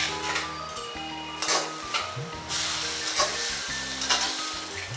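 Chopped vegetables for Gauri bhaji sautéed in a pan, a steady sizzle and hiss with scraping stirs at intervals and faint tonal music underneath.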